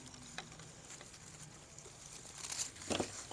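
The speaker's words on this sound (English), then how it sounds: "This juniper garland, I'm going to cut this down." A blue juniper garland being cut: faint, close crinkling and rustling of foliage with a few sharp snips and crackles, growing louder and busier toward the end.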